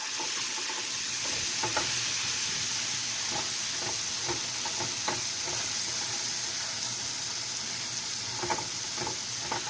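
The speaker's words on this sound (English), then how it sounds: "Frying up some squid for you today." Squid deep frying in hot oil, St Lucia-style calamari, gives a steady loud sizzle and hiss with scattered crackles and pops throughout, close by and alone.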